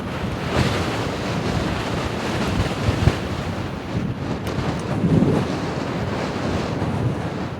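Steady wind buffets the microphone throughout while riding an e-bike, a loud low rumbling roar with gusty swells, no voices.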